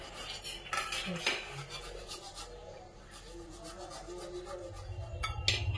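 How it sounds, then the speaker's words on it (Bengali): Boiled potatoes rubbed by hand against a metal grater in a home kitchen, giving a steady rasping scrape with occasional clinks of the utensil, close and moderately loud. "কালকে যে আলুগুলো সেদ্ধ করেছি একটুখানি গ্রেট করে নেবো"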